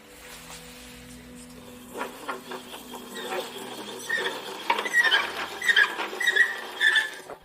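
An old spinning wheel in an abandoned castle turns and squeaks, starting low and building into a loud, repetitive high squealing and creaking that gets more intense toward the end, with no talking.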